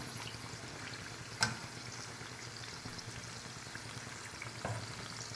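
Bottle gourd vadas fry steadily in hot oil over a medium flame, giving a continuous close sizzle with a couple of brief louder crackles and no speech.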